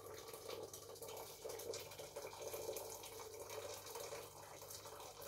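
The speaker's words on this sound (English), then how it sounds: "Now we're adding the boiled water." Boiled water pours steadily into a pot of rice for microwave jollof, a soft, continuous splashing rush, close and quiet.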